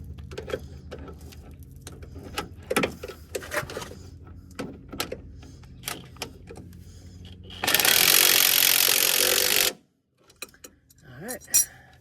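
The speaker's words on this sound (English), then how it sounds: "use my impact driver on the bottom side and go ahead and get this tightened up" Impact driver tightening the lower strut nut on a 2016 Chevrolet Silverado, with clanks and tool handling, then a loud continuous burst of rattling hammering for about two seconds, followed by quieter clicks.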